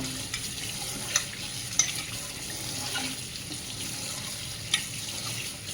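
Flattened rice (avalakki) being washed in a bowl of water, a steady low swishing and sloshing with a few small splashes, close and continuous, no talking.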